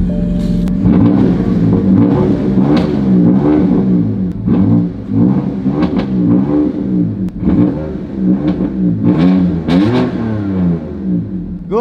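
A BMW i8 sports car engine with a loud modified exhaust revs repeatedly nearby, rising and falling in sharp bursts with crackling pops between.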